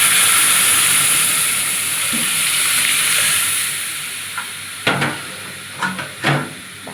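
Red lentils tipped into a pot of boiled mango seasoned with salt and turmeric, then stirred; a steady simmering hiss gives way to several sharp clattering stirs near the end, with no talking.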